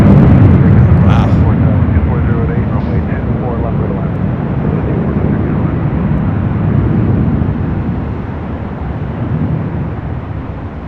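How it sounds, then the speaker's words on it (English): Atlas Air Boeing 747-8 passing overhead near LAX, a loud, steady broadband jet roar that fills the whole stretch and eases slightly toward the end, with people talking over it. "Let's go to the Queen, the Atlas Air Queen, now above us here, high atop the H Hotel."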